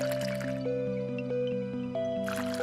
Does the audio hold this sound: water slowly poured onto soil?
yes